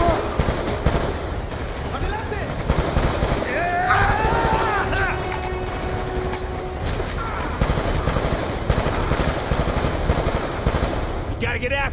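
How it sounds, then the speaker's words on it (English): Gunfire in Call of Duty: Black Ops 2, repeated rapid shots crackling through a busy game mix, with characters talking and tonal music or effects swelling partway. "Gunshots came from inside."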